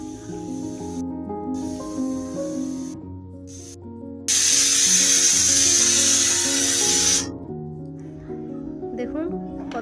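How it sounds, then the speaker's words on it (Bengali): A pressure cooker on a home stove whistles while daliya (broken wheat) cooks inside, a loud sustained steam hiss rising abruptly and holding for a few seconds before cutting off, with background music throughout. "এবার প্রেসার কুকারে ঢাকনা লাগিয়ে 3টে সিটি মেরে নামিয়ে নেব।"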